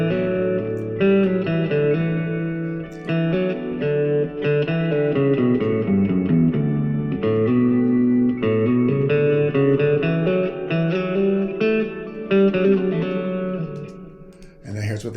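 A distorted electric guitar solo played an octave lower, thick sustained melodic notes with reverb and echo, loud and continuous with no talking.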